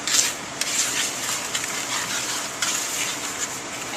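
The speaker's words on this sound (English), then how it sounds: "I'm going to go ahead and mix them around a little bit on my baking sheet with my wooden spoon here" Fresh breadcrumbs are pushed around a baking sheet with a wooden spoon, making continuous dry rustling and scraping with a few sharp knocks of the spoon against the metal tray, fairly close and alone.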